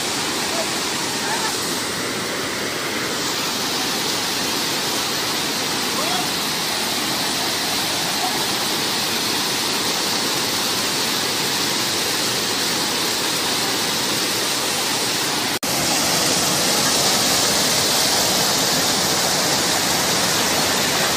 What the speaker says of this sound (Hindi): पानी में बहुत प्रेशर है